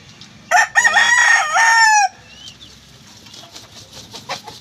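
A young rooster, a stag, crows loudly and close up in a backyard, one drawn-out call of about a second and a half, followed by faint clucking and low farmyard noise.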